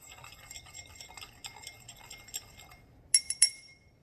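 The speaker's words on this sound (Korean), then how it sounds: "식용소다를 넣은 다음에 유리막대를 이용해서 저어줍니다" A glass rod stirs baking soda into water in a glass, giving a steady run of light scraping and tinkling close by, ending in a few sharper clinks against the glass.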